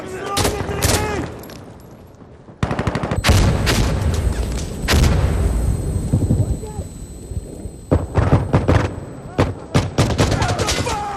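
In the Insurgency: Sandstorm video game, a grenade is thrown amid loud gunfire, with rapid bursts of close rifle shots, a heavy booming blast, and further volleys and echoing reports, while players shout over the fighting.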